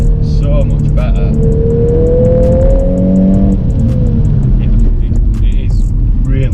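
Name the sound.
VW Golf R MK8 car driving on a back road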